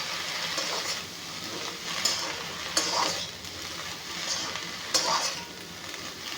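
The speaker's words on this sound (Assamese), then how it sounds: "অলপমান নিমখ নিদিয়াকৈ অলপমান ভাজি ল'ম।" Fish sizzles in hot oil in a pan while being stirred, with continuous frying hiss and intermittent scraping clicks of the utensil against the pan.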